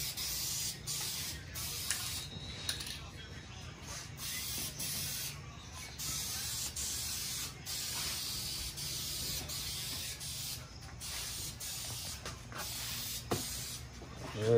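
A spray gun lays a second colour coat over primer on an Infiniti G37 in a paint-match job, a close, continuous hissing spray broken by short pauses between passes, with no talking.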